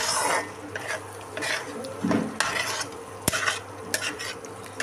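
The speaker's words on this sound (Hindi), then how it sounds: "देखिए इसको मिक्स कर देते हैं।" Masala powder is stirred into chicken frying in a pan, with a steady scraping and stirring clatter over a soft sizzle and occasional sharp utensil taps against the pan, close and continuous.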